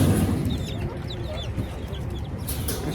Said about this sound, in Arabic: دجاج امريكي.